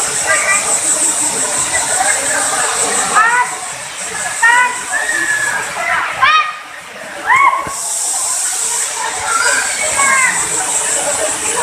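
Sirah Kencong waterfall roars as a steady broadband rush of falling water, with birds or voices chirping faintly over it and people talking nearby in a few short bursts.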